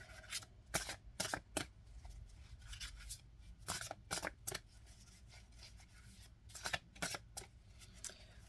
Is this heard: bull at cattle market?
no